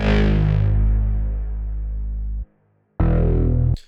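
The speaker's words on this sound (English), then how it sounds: "I have two different basses kind of layered on top of each other." A thick, distorted layered synth bass from a Serum patch holds a sustained note, cuts out briefly, then returns with a second heavy, buzzing bass hit.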